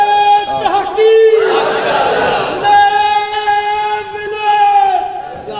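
A crowd of worshippers in a mosque chants religious slogans in unison, loud, sustained voices swelling in a roar mid-clip, with a prominent voice leading over reverberant, echoing sound.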